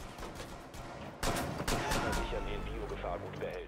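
Bursts of gunfire in Rainbow Six Siege, sharp rapid shots with a louder barrage midway and rumbling echoes after.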